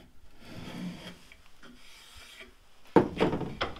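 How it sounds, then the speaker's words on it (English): A spokeshave shaves along the edge of a wooden hydrofoil wing, giving soft rasping strokes that grow louder and sharper near the end, heard close up with no talking. "if I hold the spokeshave on a bit of a 45 like this, it sort of helps self-level some of those highs and lows"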